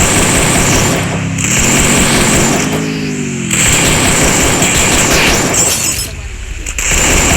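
A buzzing motorbike engine drones continuously with rising and falling revs, mixed with game-like bursts and booms, close and loud throughout.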